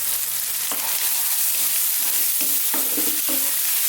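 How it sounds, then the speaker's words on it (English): Tomato with turmeric, chilli and coriander powders frying over high heat while being stirred, a steady loud sizzle broken by repeated scraping strokes of the spoon. "And continuing on this high heat, again stirring all the time."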